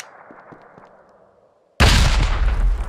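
A grenade explodes in the World War II shooter Hell Let Loose, a sudden loud blast that follows a quiet stretch of faint distant gunfire and lingers as a roaring rumble.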